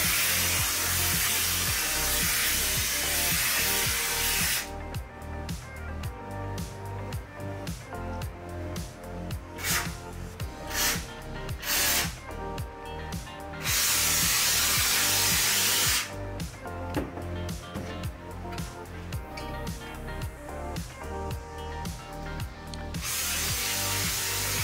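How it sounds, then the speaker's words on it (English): Froth-Pak 200 closed-cell spray foam sealant kit spraying, with three loud, steady bursts of broadband hiss at the start, middle and end, separated by stretches of layered tonal sound. "When spraying closed cell spray foam like the Froth Pak"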